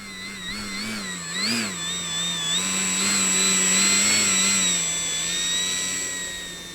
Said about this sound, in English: you're going to hear me jockeying the throttle to rock it back and forth